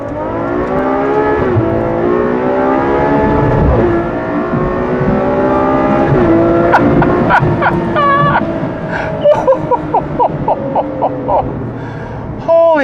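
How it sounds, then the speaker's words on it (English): A Ferrari 812 Superfast, a front-engined two-seat grand tourer, revs loudly up close, its engine note climbing and falling in long sweeps before breaking into a string of sharp, quick blips toward the end. "Welcome to the Ferrari 812 Superfast."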